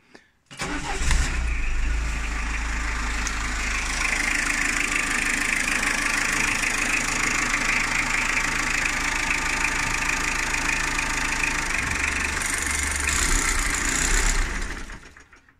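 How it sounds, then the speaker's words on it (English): A diesel Peugeot 205 engine runs steadily at idle for about fifteen seconds, a continuous low rumble with no talking, then cuts off at the end as it runs out of fuel. "I just run the engine until it conks out. Shouldn't take too long because it's diesel"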